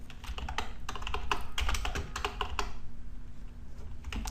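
Fingers type quickly on a computer keyboard, a close run of crisp key clicks that stops after a few seconds, then a couple of final presses including the Enter key, with no voices.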